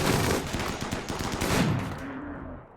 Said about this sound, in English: the autocannons are doing such good work at this close range